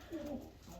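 Pigeon cock bird gives a single short, low coo, soft and close, in an otherwise quiet moment.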